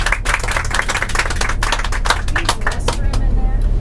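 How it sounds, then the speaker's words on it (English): A group of passengers on a tour bus claps for their photographer in a round of quick, dense applause that fades near the end, mixed with some talking. "let's give her one more round of applause"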